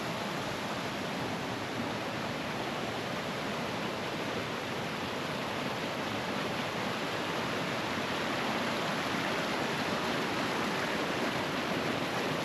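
Disappointment Falls pours in a continuous, dense roar of falling water, loud and close, broadband and unchanging, with no other sounds.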